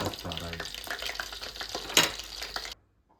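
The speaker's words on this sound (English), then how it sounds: "And into the hot oil. Vegetable oil." Chicken pieces frying in hot vegetable oil, a close, crackling sizzle with bubbling bursts that stops abruptly near the end, with a voice speaking over it.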